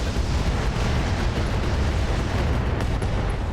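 A large laser turret in the RogueTech video game is destroyed by weapons fire, a steady loud roar of explosions and blasts that lasts several seconds without a break.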